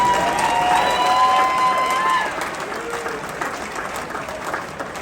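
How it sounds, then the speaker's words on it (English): A crowd applauds a 2023 US Air Force Thunderbirds team member, Thunderbird 11, at an introduction event, with loud sustained clapping and a few whistles that ease to a lighter patter after about two seconds. "Huge round of applause for Thunderbird 11"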